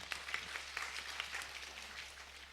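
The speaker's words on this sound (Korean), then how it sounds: "박수" Audience applause following a lecture on living like flowers, a lecture-hall crowd clapping steadily but faintly and at a distance for a couple of seconds, with no voices over it.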